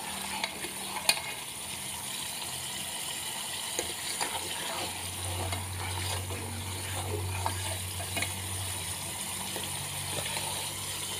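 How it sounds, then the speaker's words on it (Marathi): Ghee being clarified in a pan gives a soft, steady sizzle with scattered small crackles and pops, fairly quiet and continuous with no talking. "असं तूप चुन चुन चुन चुन वाजायला लागलं की समजायचं पाणी थोडंसं कमी झालं"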